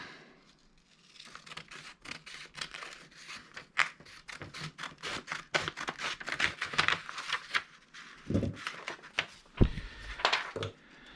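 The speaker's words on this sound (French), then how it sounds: "Ciseaux." Scissors snip in quick, irregular bursts of sharp clicks and crisp cuts at close range during assembly of a SWORKz S35-4e RC car kit, with no talking.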